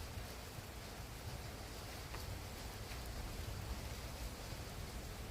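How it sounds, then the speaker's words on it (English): Steady rain falling outside during a storm, a soft continuous hiss at low level with no distinct drops standing out, lasting throughout without voices. "Can you hear the rain?"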